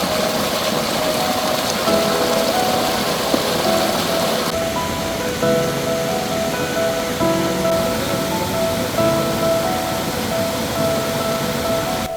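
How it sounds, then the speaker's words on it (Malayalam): Oliyath Para waterfall at Mezhathur Mudavannur, Thrithala, swollen by monsoon rain: a dense, constant roar of rushing water and rain, loud and unbroken with no voices. "മഴയിൽ മനം മയക്കും കാഴ്ചയൊരുക്കി മേഴത്തൂർ മുടവന്നൂരിലെ ഒലിയത്ത് പാറ വെള്ളച്ചാട്ടം"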